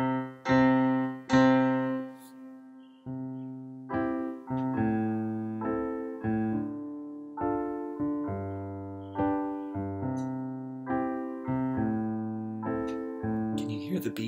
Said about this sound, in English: But this song has instrumental accompaniment on the piano.